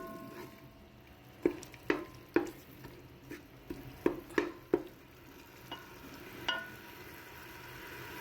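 Masala spices fry in a pot while a spoon scrapes and stirs, giving a quiet sizzle under a string of sharp, irregular clinks and scrapes, close by.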